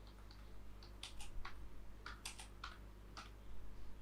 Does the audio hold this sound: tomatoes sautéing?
no